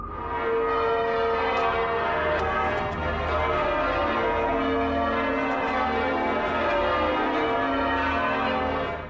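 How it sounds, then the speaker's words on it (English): Church bells ring out at York Minster cathedral, a dense, continuous peal of overlapping tolls that fills the whole stretch, loud and sustained without pause. "The bells are ringing and the cameraman is taking it all in."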